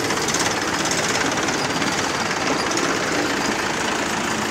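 A Mahindra 575 DI tractor engine runs close by, a steady rapid diesel knock and rumble holding even and loud throughout with no talk.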